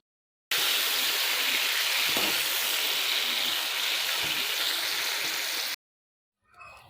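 Green chillies frying in a pan for a sweet-and-sour raw mango chutney: a loud, steady sizzling hiss that holds for about five seconds, then cuts off abruptly.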